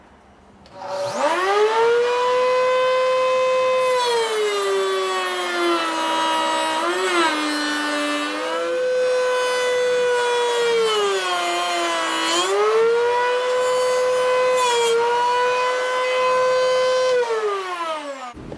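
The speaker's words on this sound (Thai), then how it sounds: "เดี๋ยวคลิปนี้ผมจะลองตีหัวไม้ดูนะครับ ครับเดี๋ยวผมจะตี 2 หัวเลยพร้อมกันนะครับ" A router fitted with a tongue-joint bit cuts into the end of a wooden board, shaping two tongues at once: a loud, sustained high whine that holds steady, dips in pitch as the cutter bites into the wood, then recovers, running alone for about seventeen seconds.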